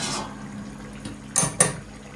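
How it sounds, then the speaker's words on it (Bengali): A lid lifted off a pot of Bengali chicken chap in a home kitchen, giving two short metallic clinks close by over a faint background hum. "এখন ঢাকনাটা খুলে দেখে নিচ্ছি।"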